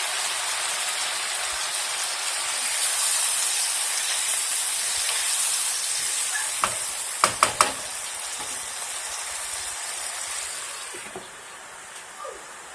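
Chicken white karahi with half a glass of water added, simmering covered on low heat: a steady broad steam hiss and gentle sizzle runs throughout at moderate level, with a few brief sharp clinks near the middle and no talk.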